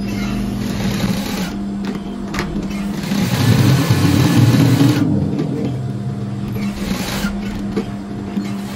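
A sewing machine stitches continuously around a shirt sleeve, its steady motor whir rising slightly in the middle and running close and loud for the whole stretch.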